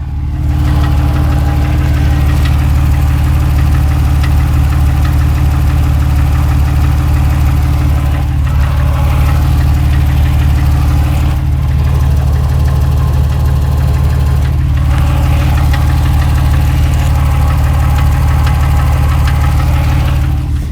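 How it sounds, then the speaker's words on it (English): A car engine idles steadily with a rough knocking clatter of piston slap caused by scored cylinder bores, loud and close, running continuously with no talk. "what you're hearing there is you're really hearing the pistons slapping"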